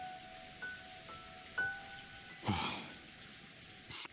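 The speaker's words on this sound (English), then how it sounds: "For a while, we gazed at the rain-drenched rose garden as we quietly enjoyed our tea." Rain falls on a rose garden in the Umineko visual novel game, a steady soft patter of rain with a few faint chime-like tones and light thuds over it, with no talk.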